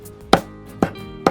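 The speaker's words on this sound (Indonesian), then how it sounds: "Lengkuas kita geprek" A galangal root is smashed three times with sharp, heavy strikes spaced about half a second apart, each impact loud and close in a quiet kitchen.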